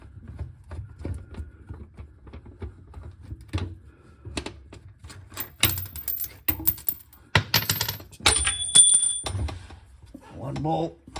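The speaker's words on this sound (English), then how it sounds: "take the nuts off here and pull those bolts out" Nuts and bolts come off a car crossmember on a 1976 Monte Carlo during a 347 stroker install, giving sharp metallic clicks, taps and rattles close by, denser toward the end.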